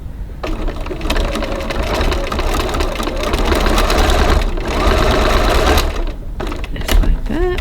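Domestic sewing machine stitching a cross body bag, a loud, close, rapid mechanical whirring run that pauses briefly twice before starting again.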